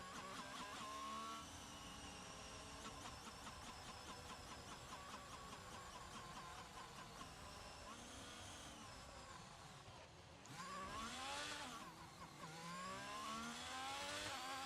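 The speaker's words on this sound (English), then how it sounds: "we got some burnouts going on" Race cars in a racing video game on a Saudi Arabia circuit rev hard while doing tyre burnouts, with several layered high engine whines that dip and surge back up, loud and continuous.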